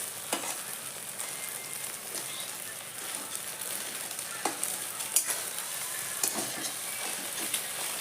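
Small pieces of egg fry in a pan over a gas flame, giving a steady low sizzle with occasional soft stirring clicks and scrapes; no talking.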